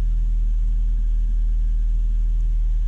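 A classic Mini engine idling at close range, a steady low rumble with an even pulsing beat and no revving, alone without talk.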